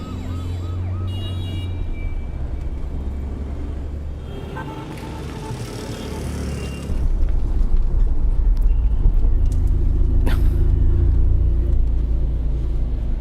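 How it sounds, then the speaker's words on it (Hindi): Heavy road traffic in a city setting: a steady, loud engine rumble that swells partway through, with a siren rising briefly above it and no talking. "ट्रैफिक बहुत है, लगता है चेकिंग हो रही है।"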